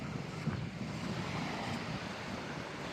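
Wind blows across a bridge over the sea at Filladhoo Island in the Maldives, a soft, continuous rushing buffet against the microphone with no voices.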